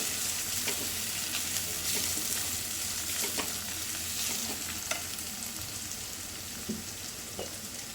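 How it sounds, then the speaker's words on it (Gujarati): Onions roast on a low flame until brown in oil, giving a soft, steady crackling sizzle with occasional light stirring taps, close by and unaccompanied by speech. "ડુંગળીને ધીમા ગેસે અને બ્રાઉન કલરની થાય તે સુધી શેકવાની છે એને"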